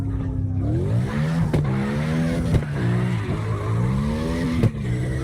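Drift car in CarX Drift, a big, heavy 638-horsepower machine, its engine droning and rising and falling in pitch while tires squeal through slides, with a few sharp bumps, loud and continuous with no talk.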